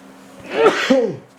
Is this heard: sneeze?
yes